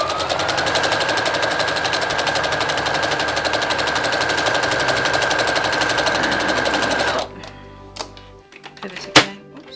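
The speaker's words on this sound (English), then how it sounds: "Make sure they're lined up and sew all the way down to the next point." A sewing machine stitching fabric, running loud and continuous with a fast, even mechanical whir for several seconds, then stopping abruptly, leaving a few faint clicks and a small thump.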